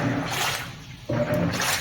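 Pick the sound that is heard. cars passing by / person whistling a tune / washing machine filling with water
washing machine filling with water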